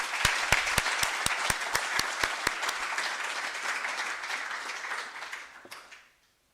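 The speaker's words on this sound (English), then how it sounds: "Can we give him a big round of applause?" A conference audience breaks into a round of applause, a dense, even wash of clapping with a few sharper individual claps early on. It holds steady for several seconds, then fades out quickly.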